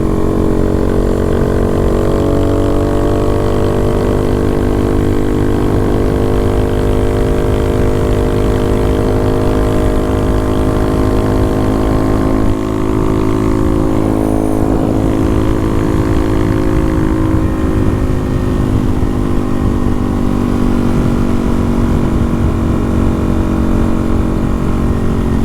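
Honda Monkey motorcycle riding in fourth gear on hilly California roads, a loud steady engine drone with a strong low harmonic hum and continuous wind noise, no talk.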